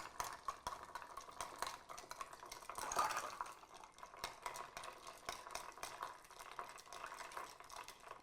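Ice cubes in a Black Irish cocktail stirred with a bar spoon, a quiet run of light clinks and rattles with one brighter knock midway.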